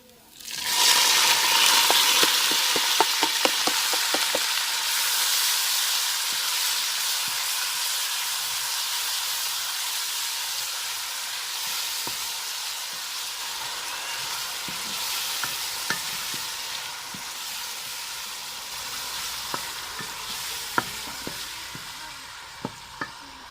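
Browned garlic hisses loudly in a pan as ground tomato, a two-inch piece of ginger and green chilies go in, giving a sustained sizzle and steam broken by clattering stirring taps, with no talking.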